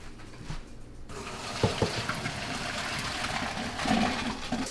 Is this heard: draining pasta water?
yes